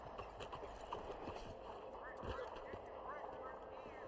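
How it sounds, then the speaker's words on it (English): Horse hooves clip-clop at a steady walking rhythm in Red Dead Redemption 2, continuous and moderately close under a busy town ambience, with someone speaking over it. "El caballo mueve"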